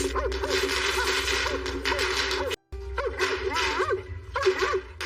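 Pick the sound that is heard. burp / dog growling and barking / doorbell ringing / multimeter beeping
dog growling and barking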